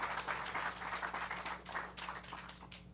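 Faint audience applause at a lecture, a few seconds of scattered hand clapping that thins out toward the end over a low steady hum.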